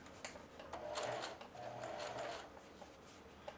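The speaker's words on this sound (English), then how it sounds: "Not used to sewing on curves a whole lot." A sewing machine stitches denim jeans along a curved seam, a faint, quiet whir running in two short bursts with a brief pause between, with no talking.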